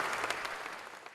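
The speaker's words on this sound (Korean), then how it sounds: "객석의 환호와 박수를 한몸에 받았다" A concert audience claps and cheers for the Gracias Choir after its performance of local Tongan songs, the applause a dense, even patter of many hands, moderately faint and continuous throughout.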